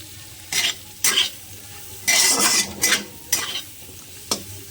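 Chopped capsicum and onion are stirred in butter in a pan, with sharp bursts of spatula scraping and clatter over a soft sizzle, several strokes in quick succession.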